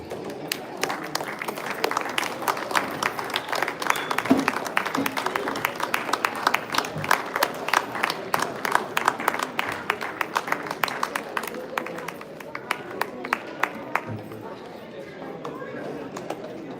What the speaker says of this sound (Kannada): ಸಮಿತಿಯ ಸದಸ್ಯರಿಗೆ ಚಪ್ಪಾಳೆ ಹೊಡೆಯಿತು